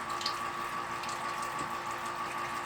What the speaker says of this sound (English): you're starting to flow over in the valve up on top